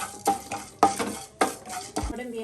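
Mustard seeds, chana dal and urad dal fry in hot ghee for upma, heard as brief sizzle and scraping bursts from stirring, close and moderately loud, with no talking.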